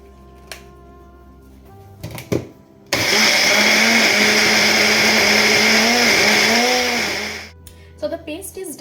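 An electric grinder blends coconut paste with water in a loud, steady motor whine that lasts several seconds, with brief clatter and handling noises before it starts and after it stops.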